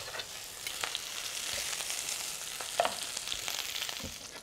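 Butter sizzling over roasted poultry carcasses in a hot pan, a steady frying hiss throughout with a few soft clicks and brief crackles, moderately close and without voices.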